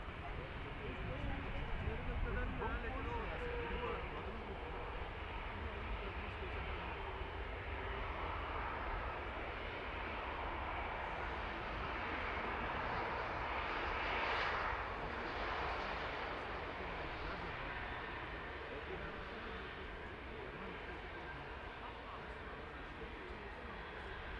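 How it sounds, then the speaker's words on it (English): A British Airways airliner touches down at Manchester Airport, a broad distant jet roar that swells slightly midway and then eases, while spotters talk quietly over it throughout. "So BA just touching down. There it is."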